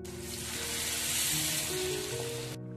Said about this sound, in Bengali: মাছ ভাজা বা মশলা কষানো সবকিছুই ওই ছড়ানো প্যানটার মধ্যে করে নিয়েছিলাম।